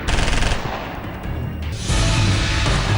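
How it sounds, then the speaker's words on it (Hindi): Soldiers fire on infiltrating terrorists near the international border in the Hiranagar sector of Jammu and Kashmir: rapid bursts of gunfire, then a dense, loud, continuous volley close by. "सतर्क जवानों ने आतंकियों पर फिर फायरिंग की।"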